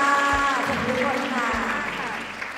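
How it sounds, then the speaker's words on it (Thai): An audience claps to welcome a guest at a Thai talk-show style gathering, a steady wash of applause filling the whole moment fairly loudly with no pause. "ให้เกียรติปรบมือต้อนรับ"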